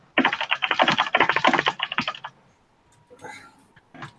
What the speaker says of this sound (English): That is a keyboard of someone who spent a long time on MSN Messenger as a teenager.